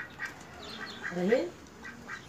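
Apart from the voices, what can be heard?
ducks quacking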